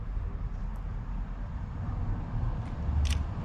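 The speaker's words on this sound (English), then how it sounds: "You've got to take your time and press that shutter slowly." A vintage No.1A Folding Pocket Kodak camera's shutter is pressed slowly, giving a single brief, faint mechanical click near the end over a steady low background hum.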